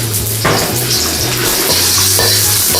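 Chopped onion sizzles steadily in hot cooking oil in a pan, with a continuous close frying hiss, occasional scraping and stirring, and a low background hum throughout.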